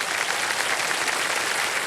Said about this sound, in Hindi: तालियां बज जाएं एक बार इनके लिए